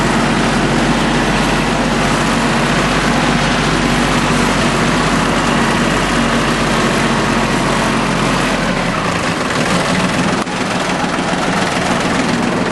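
A Yanmar YM1401D diesel M4WD tractor running in a side yard, its heavy low engine drone close, loud and continuous, with a brief dip and shift near the end.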